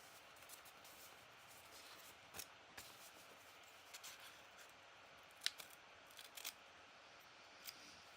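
Teflon-coated scissors snipping material during hand bookbinding and restoration work, a series of quiet, crisp individual cuts spaced irregularly, with no talk.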